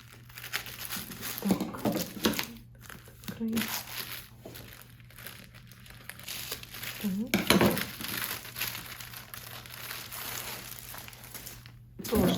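A mail envelope is opened, with papery crinkling and rustling in short bursts, close to the microphone, while someone talks over it.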